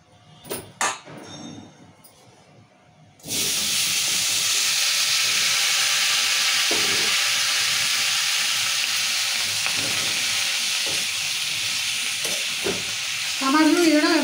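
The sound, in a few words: tomatoes frying and stirred in oil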